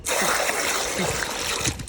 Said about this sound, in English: see what big water that my husband is using to wash ugu